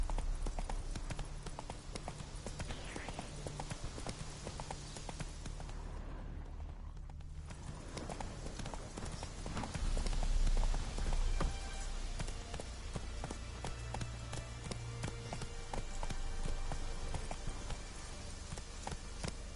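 A horse gallops across ground in The Witcher 3 video game, rapid rhythmic hoofbeats running steadily throughout, close and clear, with ambient game sound underneath and no talk.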